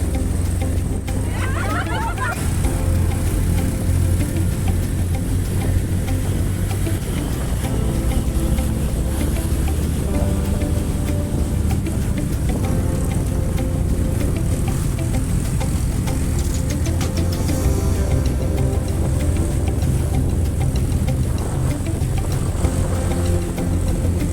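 Steady engine drone of a motorcycle taxi (ojek) carrying riders toward a trekking post on the way to Waerebo, a continuous loud rumble with wind noise and no clear pauses.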